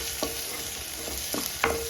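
Garlic and green chilli sauté in a pan for a banana flower cutlet, a steady soft sizzle broken by a few sharp spoon scrapes against the metal.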